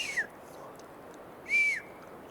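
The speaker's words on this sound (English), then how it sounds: "A whistle." A whistle in the woods: two distant, thin tones, the first brief and faint, the second a longer, louder sweep about a second later, over quiet outdoor background with no talking.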